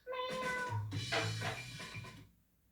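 A cat meowing in a mayonnaise TV commercial, one long drawn-out close meow with a wavering pitch that fades away at the end.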